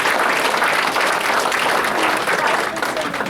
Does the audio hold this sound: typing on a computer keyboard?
no